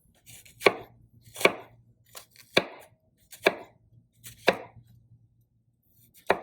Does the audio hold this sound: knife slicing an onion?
yes